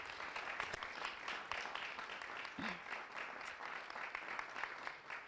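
Audience applause at the Genie Milenyal 2023 ceremony, steady and moderately distant, a dense patter of many hands holding fairly even for several seconds, with a brief low voice or thump partway through.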